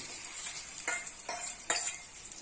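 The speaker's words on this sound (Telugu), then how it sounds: "ఆయిల్ బాగా వేడెక్కింది. ఇప్పుడు ఇందులో ఈ బ్రెడ్ వేసుకోవాలి." Slices of bread laid into about three tablespoons of hot oil in a pan for a quick egg-bread breakfast, giving a steady soft sizzle with three sharper bursts as pieces go in, close by and without talk.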